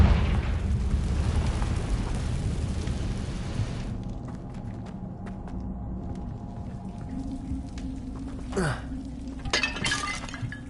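Confringo fire spell blast in Hogwarts Legacy, a loud rumbling burst with crackling debris that fades into a low ambient hum, followed by faint clinks and a short whooshing magical effect.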